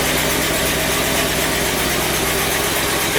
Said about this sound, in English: Completely cold start.